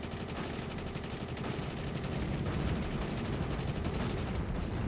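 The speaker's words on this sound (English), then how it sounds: "Who's shooting at me?" A guard tower gunner in a Sega Saturn video game lays down continuous rapid gunfire, a steady stream of fast, evenly pulsing shots at moderate loudness with no talking.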